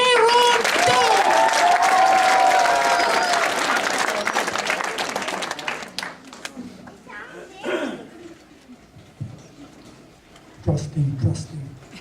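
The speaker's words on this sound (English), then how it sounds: "One more round of applause for Aaron." A talent show audience claps loudly and steadily, then the applause fades out, leaving scattered voices and a few bumps and murmurs.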